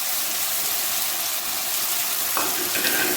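Liver and gizzard karahi fries loudly in the pot, a dense, close sizzle that holds steady throughout, with a brief shift in texture near the end and no talk.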